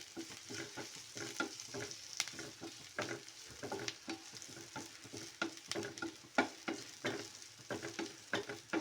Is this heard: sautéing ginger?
yes